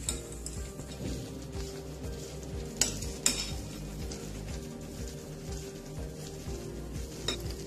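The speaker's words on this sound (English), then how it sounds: "Okay, so now we'll add tamarind chutney, green chutney," Papdi chaat being mixed in a bowl with tamarind and green chutney, quiet stirring with faint clinks and a couple of sharp spoon taps against the dish over a low background hum.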